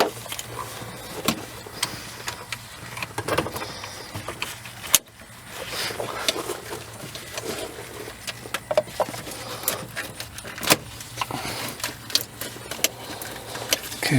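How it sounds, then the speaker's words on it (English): A ratchet works on a thermostat bolt of a Toyota Sienna, giving irregular bursts of close, light metallic clicks and small rattles over quiet background noise. "Okay, now I'll put this ratchet on."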